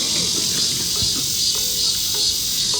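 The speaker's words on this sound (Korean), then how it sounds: "매미 소리 장렬" A loud, dense, continuous buzzing drone of cicadas fills the air, steady and pulsing slightly, with faint low background noise beneath.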